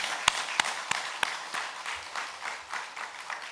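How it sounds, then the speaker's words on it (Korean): A church congregation claps together at a Korean Easter revival service, starting with a few sharp separate claps that swell into a short, dense round of applause before fading out. "우리 박수로 격려하고 축복하겠습니다."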